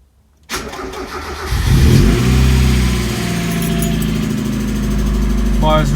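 A car engine cranks and fires right up on a freshly installed Odyssey PC680 lightweight battery, then settles into a loud, steady idle close by.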